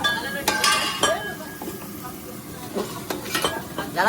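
Onions fry in a large cooking pot as they are stirred toward golden brown, with repeated scraping and clinking strokes over a sizzling bed while people talk nearby.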